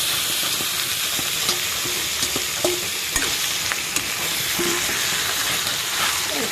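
Chicken fries in oil with turmeric, ginger and garlic in a pan, a continuous loud sizzle broken by sharp scraping clicks as the pieces are stirred.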